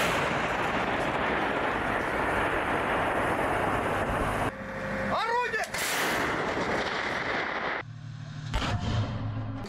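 Artillery shelling in the Russia-Ukraine war, heard as a loud, continuous wash of rumbling fire and blasts with several sharp bursts and a whistling sweep partway through, running without pause for the whole stretch.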